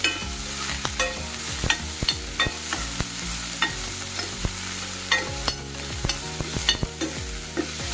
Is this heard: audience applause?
no